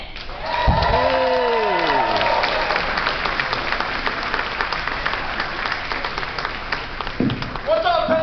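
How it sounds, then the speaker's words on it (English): A convention audience at a Clerks Q&A panel at Pensacon 2023 breaks into loud, sustained applause that fills the room, with a voice calling out over it near the start and end. "give a really big round of applause for Ming Chen"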